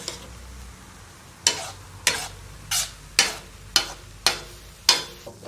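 Smoked Tunisian harissa chili paste reduces in a pan while a utensil scrapes the bottom in about seven regular, sharp strokes over a faint background simmer, with no speech.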